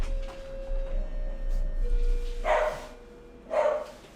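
A dog indoors barks in two short, sharp bursts about a second apart, responding to a doorbell, over a low background hum.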